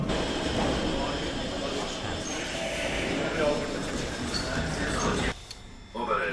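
A train rumbles steadily at a station in Ukraine during a wartime evacuation, with a broad continuous roar lasting several seconds before cutting off abruptly near the end.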